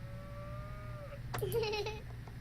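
A cow moos once in the video game That Dragon, Cancer, a short, fairly quiet lowing call heard over a soft steady background hum, with a faint higher tone drifting beforehand.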